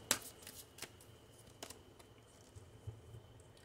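Tarot cards drawn one by one from a deck, heard as a few faint, brief papery snaps and flicks scattered over a quiet background, with no voices.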